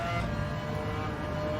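A McLaren F1 GTR race car engine roars in Gran Turismo 7 at the Le Mans circuit, giving a steady loud, dense drone as the car brakes and downshifts into third, with no voices over it.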